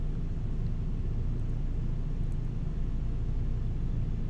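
A heavy truck on a highway rumbles past as a steady, loud low roar with constant road noise, and no voices are heard.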